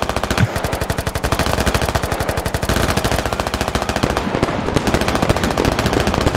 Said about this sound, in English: Oh, some autocannon fire.